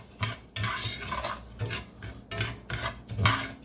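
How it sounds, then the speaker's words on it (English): Rice browning in olive oil in a pan as a utensil scrapes and stirs it, with repeated scraping strokes over a soft sizzle, close and fairly quiet. "Stir your rice around till it is browned."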